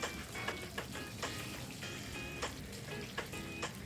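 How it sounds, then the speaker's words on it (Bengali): Chicken pakora fries in hot oil with a steady, dense crackling sizzle, broken by sharper pops and spatters at irregular moments throughout; close and alone, with no voices. "তো আমি আর একটু ভালো করে একে ভেজে নিচ্ছি।"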